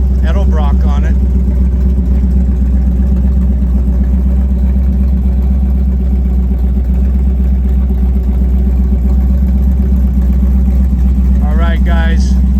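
A freshly built 350 small-block V8 with an Edelbrock carburetor idles steadily in a 1955 Chevy truck, a loud, even low rumble throughout, with brief bursts of talk at the start and end.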